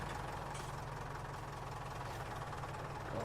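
A tractor engine in Farming Simulator 19 idles steadily, a low, even, throbbing rumble with a regular knocking pulse and no talk over it.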